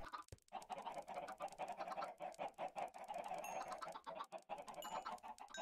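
A large flock of chickens in a Minecraft Skyblock farm clucks densely and continuously, the overlapping calls forming a steady, busy chatter with no talking.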